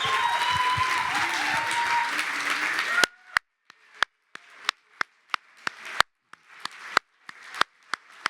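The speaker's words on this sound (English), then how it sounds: "Let's give them all a big round of applause." Applause with cheers and whoops from a graduation crowd honoring fall 2024 Solutions Academy graduates, dense and loud for about three seconds, then thinning abruptly into scattered individual claps that trail off.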